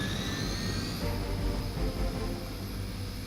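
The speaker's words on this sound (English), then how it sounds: "Disable the Hydra helicopter before it can depart." Hydra helicopter engine in the video game Marvel's Midnight Suns, a continuous loud whining turbine roar with a rising high-pitched tone, steady throughout with no talking.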